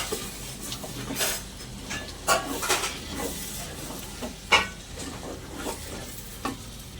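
Peanuts stir-frying with tomato and other khichuri ingredients in a pan, a low continuous sizzle broken by several scraping stirs and occasional utensil knocks on the metal, close and moderately quiet without speech.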